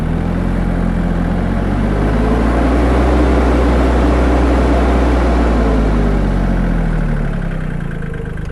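A Solis H24 compact tractor's Mitsubishi S3L2 diesel engine runs loud and close, a steady low rumble that rises as the revs climb and then eases back slightly.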